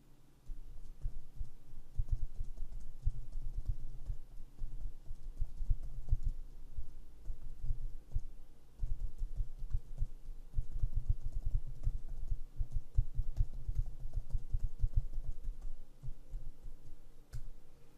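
Steady typing on a computer keyboard, close and fairly loud, with rapid clustered key clicks running almost continuously and brief pauses between bursts; no talking.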